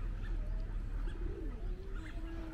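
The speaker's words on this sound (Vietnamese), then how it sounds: "Chim chúng nó đến mà." Pigeons coo under cherry blossoms outdoors, a low soft murmuring coo repeating over a steady background hum, with faint chirps and no talk.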